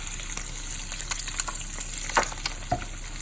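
Eggs frying in a pan give a steady soft crackle, broken by a few clicks and scrapes as a spatula flips them one at a time, all close and fairly quiet.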